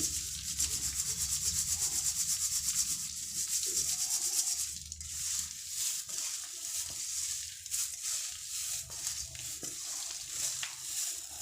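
Poha (flattened rice) is sifted onto paper, producing a close, rhythmic dry rustling and shaking hiss that grows patchier toward the end.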